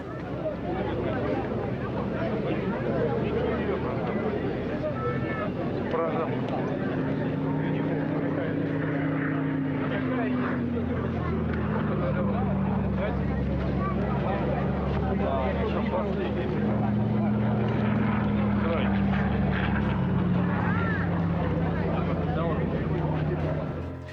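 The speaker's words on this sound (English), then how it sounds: "These are powered by Allison V1710 engines and have the designation Yak-3M." A Yak-3M warbird powered by an Allison V1710 engine flies at a military airshow, its propeller drone steady and loud, the engine pitch rising and falling as it passes, while a voice talks over it.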